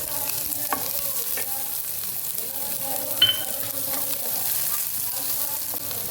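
Chopped onion frying in oil with mustard seeds, a quiet steady sizzle broken by scattered small pops and clicks of stirring, heard up close.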